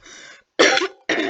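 A person coughs three times in quick succession, close and loud, with short silent gaps between the bursts and no speech.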